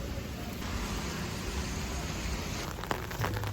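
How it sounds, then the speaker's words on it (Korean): Steady rain falls on a street in Haenggung-dong, Suwon, a continuous broadband hiss with faint passing traffic and no voices. "비가 와서 비 오는 대로 나름 운치가 있는 것 같습니다"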